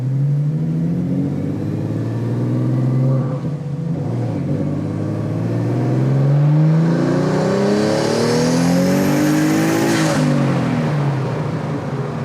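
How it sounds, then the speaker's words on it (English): A Mercedes 190E with a twin turbo V6 revs hard and accelerates, a rising turbo whine and whoosh building over a steady loud rumble, peaking near the end. "That is quite the turbo noise."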